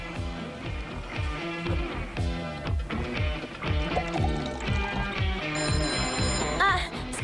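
A telephone bell rings in a 1980s Italian home scene, repeating trills heard beneath a busy musical score, with brief voices toward the end.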